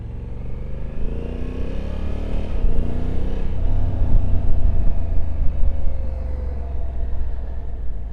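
A 2024 Honda Africa Twin with DCT and a 1084 cc parallel-twin engine runs close by, a deep, throbbing idle that swells in a brief rev midway and then settles back into a steady rumble.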